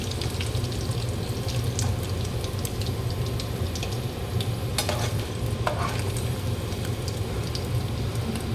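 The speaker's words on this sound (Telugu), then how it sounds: "ఈ ఎర్రగా ఏగే వరకు వేపుదాము" Paneer pieces fry in a pan for palak paneer with a steady, close sizzle and crackle that runs throughout, with occasional small pops and scraping stirs.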